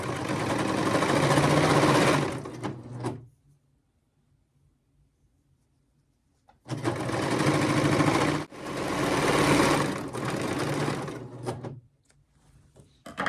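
An overlocker serges the side seam of a cotton T-shirt being taken in, running in two loud, steady bursts of whirring stitching separated by a quiet pause, with no talk over it.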